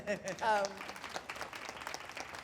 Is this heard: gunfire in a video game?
no